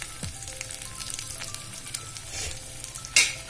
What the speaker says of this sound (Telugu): మంచిగా ఫ్రై అయ్యే వరకు ఫ్రై చేసుకున్నాము.